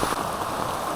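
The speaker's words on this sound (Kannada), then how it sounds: "ನೋಡಿ ಇವರು ಫುಲ್ಲು ಜೋರು ಮಳೆ ಬೀಳ್ತಾ ಉಂಟು" Heavy rain pours steadily over the forest of the Western Ghats near a hidden waterfall in Uttara Kannada, a dense, continuous hiss of drops with no pauses and no voices.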